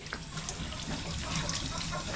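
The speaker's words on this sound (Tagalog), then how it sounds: "Banlaw ng karne." Running water splashing continuously as raw meat is rinsed at a farm, a steady wash of liquid noise at close range with no talk.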